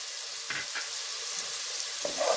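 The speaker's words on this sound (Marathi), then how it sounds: "आता त्यामध्ये मी हा कढीपत्ता टाकतेय, त्यात 1 चमचा हळद" Curry leaves and turmeric hit hot oil with onions already cooking, giving a steady close-up sizzle and crackle with a few brief bursts of spattering, no voices.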